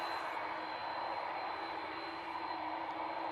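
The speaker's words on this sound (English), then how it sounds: "Aer Lingus A330 300 off to Mickey Mouse Land. Turn and burn, yes please." An Aer Lingus Airbus A330-300 jet taking off from Manchester Airport, a faint, steady distant engine roar with a thin whine on top.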